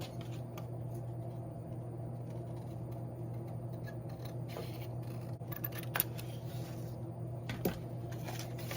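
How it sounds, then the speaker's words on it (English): Scissors snip out a paper craft piece for a Dollar Tree DIY project, with quiet, close, irregular clicks and snips over a steady low hum, and no talking. "let's cut this out."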